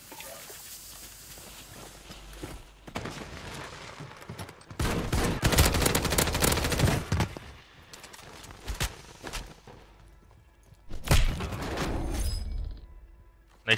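Gunfire in the Warzone video game, with shotgun blasts among the shots: loud bursts of firing in clusters separated by quieter stretches of movement and footsteps, ending with one sharp shot.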